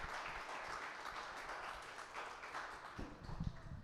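An audience applauding Mario Rojas after his presentation, heard faintly and from a distance as a steady patter of many hands, with a few closer, heavier claps near the end.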